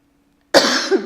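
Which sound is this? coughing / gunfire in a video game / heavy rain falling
coughing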